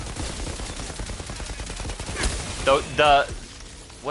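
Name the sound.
gunfire with recoil in video game Outriders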